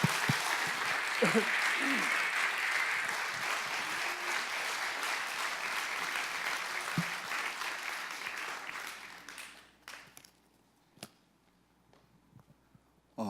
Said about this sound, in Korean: 우리 문성원 목사님 나오실 때 크게 박수 해주시면 좋겠습니다